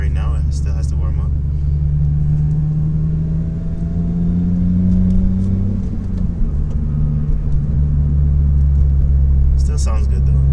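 A Honda Civic Si exhaust is loud during a cold winter start and drive, a deep steady drone that climbs in pitch as the engine revs, then settles and climbs again, heard from inside the car.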